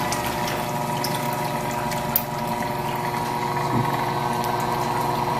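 Water pushed by a pump through a flow sensor, giving a steady, loud mechanical hum with a rushing liquid flow that stays constant throughout.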